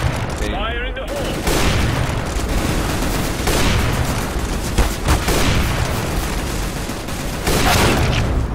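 Grenade blast and sustained gunfire in a tactical shooter match, with dense overlapping shots and booms running loud and continuous throughout, a short burst at the start and heavier volleys near the end.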